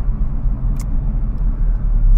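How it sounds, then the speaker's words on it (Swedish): A Volvo 240 fitted with a V8 engine rumbles steadily while driving, a continuous deep low-end drone that stays close and fairly loud throughout, with no talking. "lyssna på V8-ljudet, mullret"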